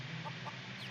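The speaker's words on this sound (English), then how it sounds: "On the church's right side are a bunch of hens running around." Hens in the game Mabinogi give a few soft, short clucks over a steady faint ambient hum, brief and distant.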